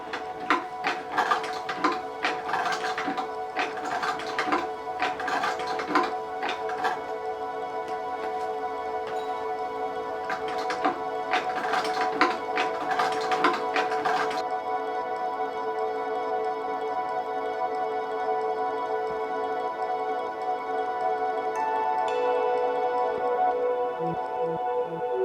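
A sewing machine stitching a jeans seam, bursts of rapid mechanical whirring that start and stop in short runs, then a steadier hum in the second half, close and fairly loud with no talking.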